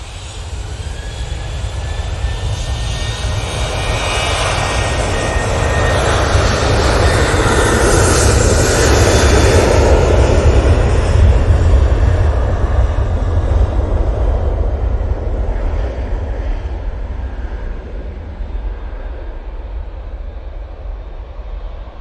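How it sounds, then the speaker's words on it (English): Jet2 Boeing 737 without winglets taking off from Manchester bound for Girona, a loud jet engine roar that swells and then slowly fades into the distance. "that is my favourite of the Jet2 737 fleet, as it's got no winglets"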